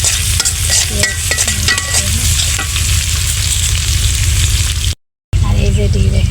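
Vegetable curry cooks and is stirred in a frying pan, a loud, steady close sizzle with frequent clattering spatula scrapes against the pan, cut by a brief gap near the end.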